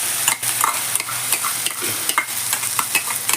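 Fenugreek leaves sizzle and fry with vegetables in a pan for a paneer curry, loud close hissing with repeated scraping stirs of a spoon.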